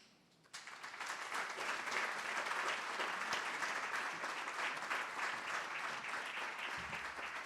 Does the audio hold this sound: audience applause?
yes